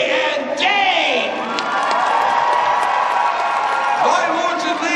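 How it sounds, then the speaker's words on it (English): A fair crowd applauds and cheers for a rider and a Shire horse with four white socks, with loud whoops and children's shouts over steady clapping. "How about a nice round of applause for TJ and Dane?"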